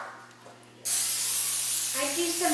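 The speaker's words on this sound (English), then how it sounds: "I'm just going to spray the counter just so the dough doesn't stick." Cooking spray hisses onto a kitchen counter before French bread dough is turned out, a sudden loud continuous spray lasting almost two seconds, with faint voice-like tones near the end.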